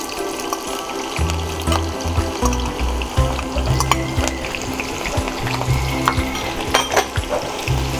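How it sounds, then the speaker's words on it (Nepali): Onions fry in hot oil for Nepali kaalo dal bhat bhuteko, giving a constant bubbling sizzle with a few stirring clicks, overlaid by steady background music. "अब पालो भएको छ प्याज फ्राई गर्ने."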